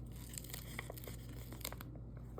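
A Cricut transfer sheet being peeled off a blank Valentine's craft item, a steady close crinkly tearing rustle over a low constant hum, with a few sharper crackles before it stops abruptly near the end.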